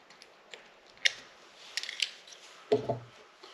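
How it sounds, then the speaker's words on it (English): Scissors snipping fishing line close to a freshly tied uni to uni knot, a few sharp, quiet clicks and cuts up close in a still room. "you want to cut the line nice and close to that knot"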